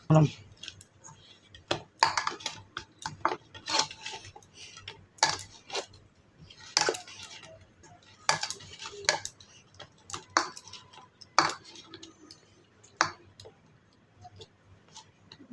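A metal spoon mixes and kneads roti dough in a bowl, giving quick irregular clicks and taps against the bowl. A voice speaks faintly in the background.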